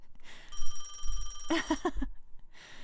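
Telephone bell ringing in the Dreambound video game: a loud, close, rapidly trilling metallic ring that pulses in a burst, stops briefly, then starts again, with a low rumble beneath.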